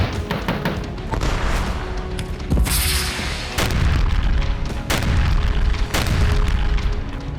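A Russian shelling barrage in the Ukraine war: a string of heavy explosions, with about four sharp booms standing out over a constant loud rumble of distant blasts.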